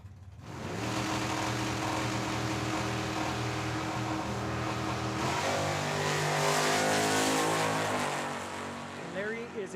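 At a Tucson Dragway bracket race, a 1970 Chevelle and a Z28 roar off the line together, their engines building to a loud, sustained howl that shifts pitch partway through and then fades.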